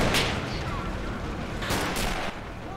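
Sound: artillery fire in video game Men of War Assault Squad 2

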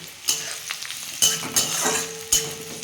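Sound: chopped garlic and onion frying

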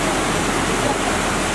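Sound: flood water rushing through a river

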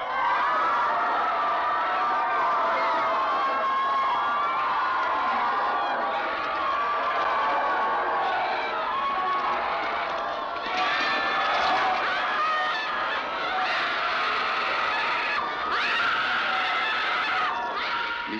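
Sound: hysterical crowd shouting in a deconsecrated church

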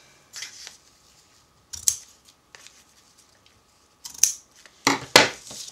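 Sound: trimming card edges with scissors

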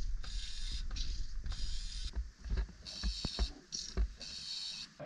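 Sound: pumping old engine oil out of Beta Marine B-85T engine

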